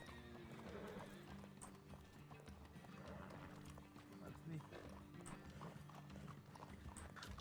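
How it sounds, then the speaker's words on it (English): Horse hooves clip-clop steadily at close range in the RedM Western roleplay game, with occasional whinnies and some talking over the hoofbeats; the riders are two buckskin Mustangs and a foxtrotter. "2 buckskin Mustangs and a foxtrotter."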